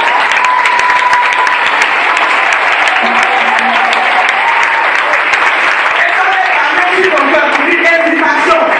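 A church congregation at a Sunday worship service applauds and cheers the Lord, a loud, dense wash of sustained clapping with voices mixed in, filling the room from start to finish.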